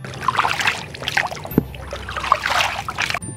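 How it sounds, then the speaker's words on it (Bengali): A hired wooden rowboat moves through the water of Ratargul swamp forest, with soft splashes and trickles from the oars close by. Scattered voices and faint bird-like chirps sound over the water. "আমাদের বোট চালাচ্ছে"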